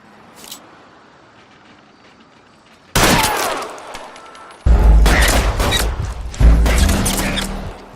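Gunfire in the L.A. Noire video game: after a quiet, faint start, loud bursts of rapid shots crack out in three heavy volleys, close and booming.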